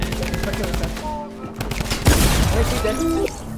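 Rapid bursts of automatic gunfire in Fortnite during a duo cash cup match, loud and close with dense volleys and a heavy blast midway, while players shout over the shooting.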